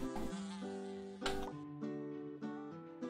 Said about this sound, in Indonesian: suara lalat